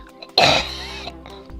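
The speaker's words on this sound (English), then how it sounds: "It's that cough at the end." One short, harsh cough bursts out close by, followed by a quiet pause with faint background noise.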